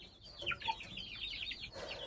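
Chickens and a rooster make a quick run of soft, close clucks and short throaty calls, fairly quiet and without speech.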